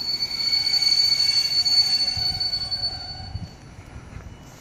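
A TLK Halny passenger train on the Bydgoszcz Główna to Bielsko-Biała Główna route rolls past on the railway, wheels rumbling and squealing with a high whine, loud nearby and then easing off.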